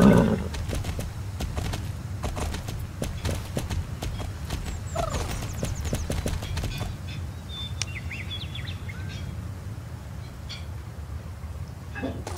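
Horse in the Star Stable video game, its steady hoof clip-clop running throughout with a whinny partway through and faint game birdsong in the background, no talking.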